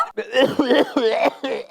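A person coughs several times in quick, harsh bursts, close and loud, with a throaty, voiced quality.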